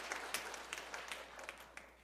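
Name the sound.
church congregation applauding new members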